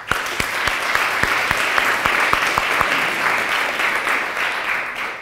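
Audience applause at the final of a regional French debating cup, steady dense clapping from a crowd sustained for several seconds with a few sharper individual claps near the front.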